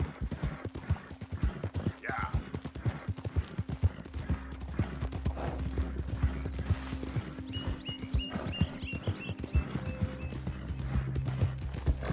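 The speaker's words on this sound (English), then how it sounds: "A lot of horse pie. That's a big horse, man." Horse hooves clip-clop steadily at a slow walking pace in Red Dead Redemption 2, a large, slow horse, with a faint whinny early on, ambient game music tones and someone talking over much of it.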